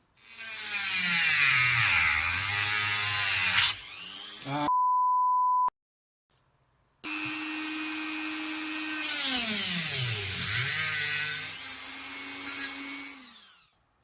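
Dremel rotary tool cutting the plastic of a Nerf LongStrike CS-6 blaster, a loud high whine that dips and rises under load in two bursts, broken by a steady beep tone and a short silence.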